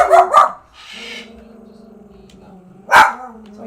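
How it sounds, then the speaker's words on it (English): A dog in Palworld, Feather, gives two quick close barks, then a sustained whimpering or whining tone, then a final sharp bark. "What are you barking about?"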